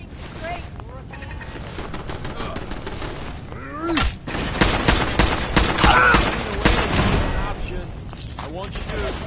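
Rapid gunfire in Fallout 4, bursts of shots crackling through the scene and swelling into a loud volley midway, mixed with game ambience and a voice.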